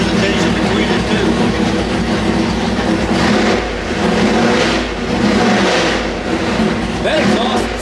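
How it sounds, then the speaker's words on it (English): A small block Chevy V8, a budget 600-horsepower build, runs on an engine test with different rocker arms fitted. Its exhaust gives a loud, continuous rumble with a choppy, lumpy cadence, and faint voices sit underneath. "That exhaust sound is way different than it was with the other rockers."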